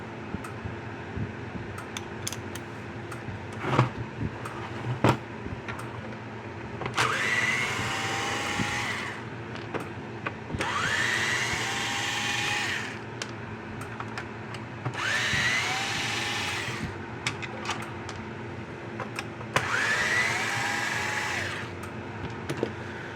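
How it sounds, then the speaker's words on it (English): A power drill backs screws out of a Gallagher M300 electric fence charger in four separate whirring bursts, each a few seconds long with a rising whine. Small clicks and handling noises fill the pauses between them. "I need the right bit to pull the screws out."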